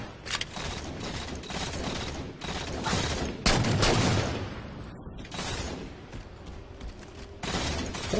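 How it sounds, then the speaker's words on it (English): Gunfire in the video game Halo 4, bursts of rapid weapon fire and sharp mechanical clacks in repeated volleys, loud and close, with no talking heard. "Who's shooting?"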